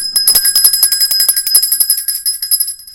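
A bell notification sound effect: a bright, high, rapid run of about twenty ringing dings in quick rhythm, loud and close with no voice.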